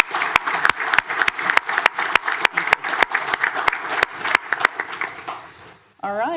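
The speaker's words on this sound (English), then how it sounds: "let's give everyone a round of applause" An audience at a council meeting claps in steady, fairly close applause that fades out over several seconds before a voice begins.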